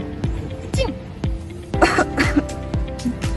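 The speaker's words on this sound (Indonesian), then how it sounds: "Dia terlihat batuk dan bersin." Several short, close coughs and throat clears spaced irregularly, a few of them with a faint voiced tone between them.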